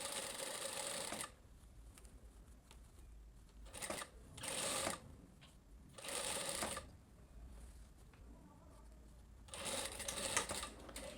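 A sewing machine stitches a Camélia blouse in bursts of rapid, rattling stitching that start and stop several times, with quiet pauses between runs while the fabric is repositioned.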